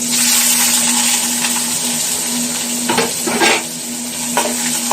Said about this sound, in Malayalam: ഇതിങ്ങനെ തന്നെ നിങ്ങൾ വറവിടണം കേട്ടോ. അപ്പൊ ഉള്ളി ഇട്ട് കൊടുത്തു.